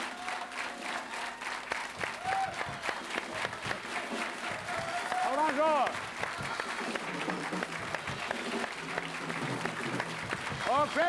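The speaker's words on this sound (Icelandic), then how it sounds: "nú klappum við" A studio audience at a 1994 Icelandic television song contest claps together, dense sustained applause with a few sharp whistles rising over it, while a host keeps talking throughout.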